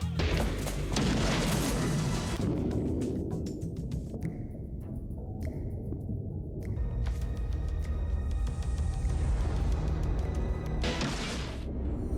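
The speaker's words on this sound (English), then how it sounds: "We're going to shoot this lava lamp with semi-automatic pistol." A 9mm semi-automatic pistol fired at a lava lamp outdoors produces loud, booming blasts with crashing, shattering noise over a continuous roar of broadband sound.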